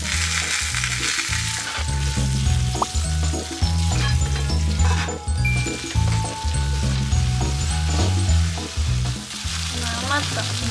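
Ingredients, including meat, sizzle and fry in hot sesame oil in a pan in a Japanese home kitchen, a steady, close crackle that runs throughout.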